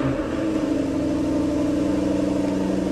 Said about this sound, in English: Starting the F-Type is on the push button, of course, so we'll get the engine running